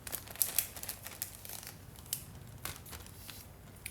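A plastic Ziploc bag is zipped shut and crinkled, giving faint, brief crackles and clicks in a quiet room.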